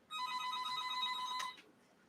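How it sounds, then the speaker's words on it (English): A phone ringtone plays close and loud as a steady electronic tone for about a second and a half, then cuts off abruptly, leaving a quiet room. "My phone's ringing."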